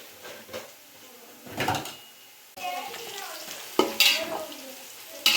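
Onions frying with turmeric in a pan, a quiet sizzle with scattered scrapes and knocks of a spatula, close but soft, with little or no talk.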